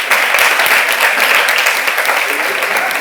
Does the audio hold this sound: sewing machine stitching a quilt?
no